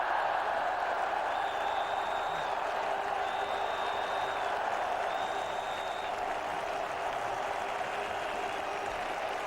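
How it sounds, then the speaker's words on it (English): A cricket crowd at a World Cup one-day match between Australia and West Indies at Old Trafford cheers and applauds a boundary, a broad, steady wash of clapping and cheering that holds for the whole stretch. "Finally, the crowd here gets something to cheer about."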